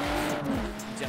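A car drifts with squealing tires in the racing video game Forza Horizon 4, a brief continuous skid over engine drone, with faint voices underneath.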